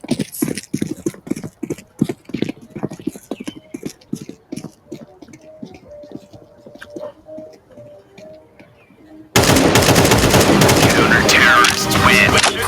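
Rapid bursts of gunfire from a Counter-Strike 2 match crack out in quick succession, then thin out, before a loud dense wash of noise takes over near the end.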